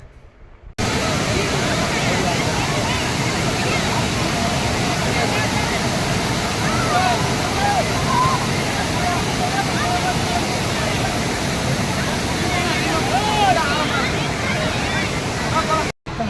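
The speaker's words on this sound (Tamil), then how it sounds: "அந்த தண்ணி சவுண்டு மட்டும் நீங்கள் கேளுங்களேன்" Rushing water at Kodiveri waterfall, a steady broadband roar filling the whole clip with a murmur of crowd voices and faint chatter mixed in underneath.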